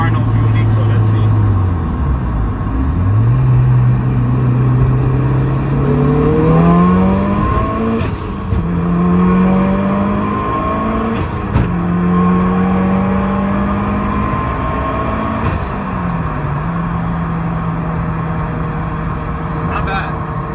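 A car with freshly cleaned fuel injectors revs and accelerates hard on a road test drive, the engine note climbing through several gears with shift dips between, loud and close from inside the cabin.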